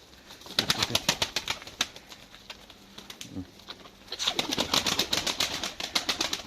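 Pigeons in a cellar give repeated wing flaps and pattering bursts with occasional soft coos, fairly close and moderately loud, pausing briefly in the middle before a denser spell of flapping and scuffling.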